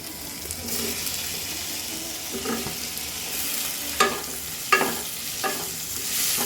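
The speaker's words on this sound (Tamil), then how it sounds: "வெங்காயத்தையும் சேர்த்துக்குவோம் அதுவுமே நல்லா வதக்கிடுவோம் அது கூடவே எடுத்து வச்சிருக்க தக்காளியும் சேர்த்துக்குவோம்" Onions and tomatoes sizzle in a hot pan for a village-style spinach curry, with continuous frying crackle and a few scraping stirs of a spoon, close by.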